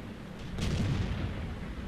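Tank gun fire in World of Tanks lands as a single heavy, low boom about halfway through, rolling into a sustained rumble over a steady background of engine drone.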